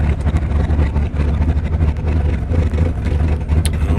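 Drag car engine from Door Slammers 2, a 1520-horsepower naturally aspirated build, roaring steadily and loud throughout, with a dense low rumble and brief revving surges.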